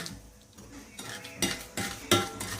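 A spoon scraping a butter and sugar mixture down the sides of a mixing bowl, several distinct scraping strokes with light clinks against the bowl, growing louder and closer toward the end.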